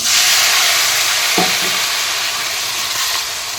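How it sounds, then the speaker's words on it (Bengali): Prawns fry in hot oil with turmeric and salt in a wok, giving a loud, steady broadband sizzle throughout, with a brief stir or clink partway through and no voices. "এবার আমি এই যে চিংড়ি মাছ ভেজে নেব"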